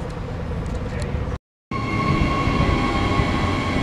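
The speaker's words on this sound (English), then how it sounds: "here's the train's come in" A train pulling into Varsity Lakes station on the Gold Coast, heard as a steady, loud rolling rumble with a sustained electric whine, broken by one brief silent gap.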